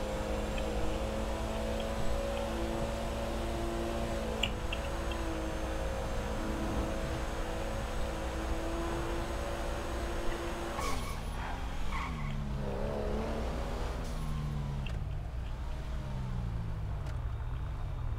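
A tuned Chevrolet Opala with a 4.1 engine drives hard in GTA 5, a steady engine drone holding pitch before tires squeal and skid with wavering engine revs near the end.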